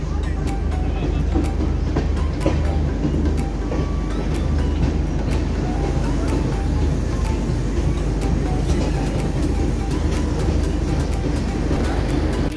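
A Garib Rath Express, a full-AC train, pulling out of Kishanganj, heard as a continuous loud rumble with repeated rhythmic wheel clicks on the rails, steady from start to finish.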